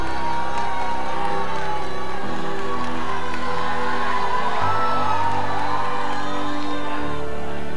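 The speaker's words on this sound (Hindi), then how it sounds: "जोरदार तालियों से स्वागत करते हैं इंजीनियर तावा तैदिर जी" Large audience at a grand-finale stage event for a dance competition greeting an honoured guest with sustained crowd noise, cheering and whoops, a steady mid-loud wash of many voices and clapping under music.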